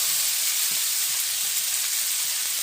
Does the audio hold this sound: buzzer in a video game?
no